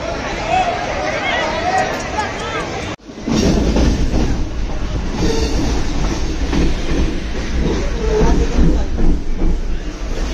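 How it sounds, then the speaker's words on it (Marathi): Trains at CST railway station in Mumbai, with a steady loud rumble and rattle of rolling rail cars and some wheel noise. A sudden cut brings in a louder, denser roar with crowd babble underneath. "CST रेल्वे स्टेशनवर आलेलो आहे आपण."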